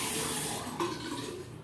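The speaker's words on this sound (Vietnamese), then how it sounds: "chị Vinh Nguyễn rửa mặt" Running water from a tap as someone washes their face, with a steady rush and a short splash partway through, close and fairly loud with no talking.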